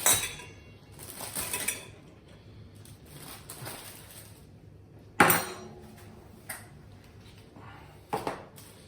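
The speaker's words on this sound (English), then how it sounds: "So let's chop off another slice of cake." Knife cutting a slice from a cake on a plate or board, a few sharp clinks and knocks of metal on hard surface separated by quiet gaps, close and fairly loud.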